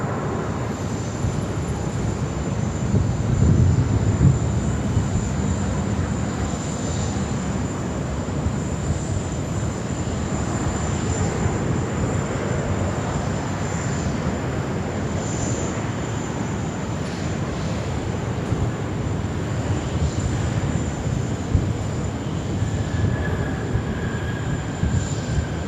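Jetstar flight 78 from Honolulu, a jet airliner at Sydney Airport, gives a steady broad engine roar that holds fairly loud and even throughout, with a slightly heavier low rumble near the start and no voices.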